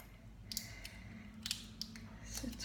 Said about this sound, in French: Peut-être que je vais devoir prendre des ciseaux